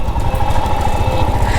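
A Royal Enfield Himalayan motorcycle engine cruises in top gear at about 40, giving a steady, loud, close thumping drone with no knocking and no break in its even rhythm.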